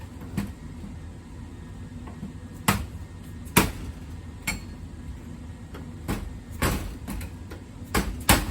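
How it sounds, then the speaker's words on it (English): A putty knife knocks old trim loose from an Apache camper window: sharp, isolated taps and knocks at irregular intervals, close and moderately loud against a quiet background. "you want to hold the putty knife kind of at an angle so it kind of just hits this edge here to knock it off"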